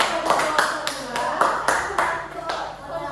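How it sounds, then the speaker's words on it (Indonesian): Applause from an audience at a gathering, a sustained burst of dense hand clapping with a few louder swells, close and continuous for the whole stretch. "Beri aplaus"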